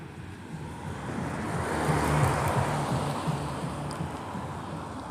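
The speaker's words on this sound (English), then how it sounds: "Wait for this car to go by." A car drives past outdoors near a gate at night: a broad rushing whoosh swells to a peak midway and then fades, with steady wind noise and no voices.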